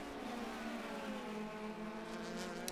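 Race car engine droning steadily at Road America during a Trans Am race, a sustained tonal roar with harmonics that rises slightly toward the end, heard from a distance without talk.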